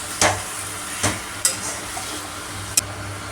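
Potatoes fry in a pan with cumin and coriander powder, a constant soft sizzle broken by four sharp, well-spaced clacks of a spatula stirring, close and with no talk.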